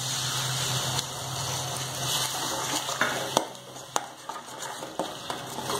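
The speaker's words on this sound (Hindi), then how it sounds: "इसमें थोड़ा सा पानी डाल देंगे।" A little water goes into a pan of cooking masala, bringing a wet hiss and bubbling along with a few clinks of utensils against the pan, close and fairly soft.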